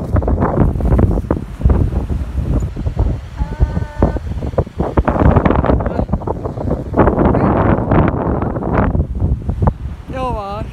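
Strong gusting wind buffets the microphone on Blackpool North Pier by the sea, a loud continuous roar with rumbling low gusts throughout, while people talk intermittently nearby.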